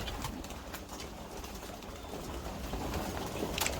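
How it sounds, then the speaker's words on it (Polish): Young pigeons coo softly inside a new pigeon loft, low murmuring calls over a steady background hum with no talking. "Jak te gołębie się tu super czują w tym gołębniku."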